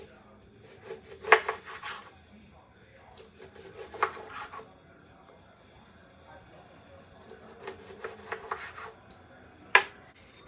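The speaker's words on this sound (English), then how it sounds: "Cut into about 4 wedges." A knife cuts a lemon or other citrus fruit into wedges on a board, making several short rasping cuts spread across the stretch with quiet gaps between them, close and fairly crisp.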